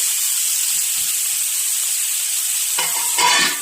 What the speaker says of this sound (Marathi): बघा आपली मच्छी आता फ्राय झालेली आहे